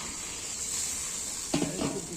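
Water tipped into a hot pan during rooftop cooking, giving a soft continuous sizzling hiss, close but quiet, with a brief louder splash near the end.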